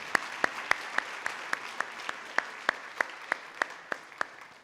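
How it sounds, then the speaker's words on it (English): Sparse, scattered hand claps ring out one after another at a school senior academic and athletic recognition ceremony, a thin round of applause from a small audience, distinct single claps over a quiet room. "can we please give another round of applause for Jim?"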